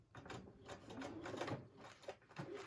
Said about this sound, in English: I'm just stitching in the ditch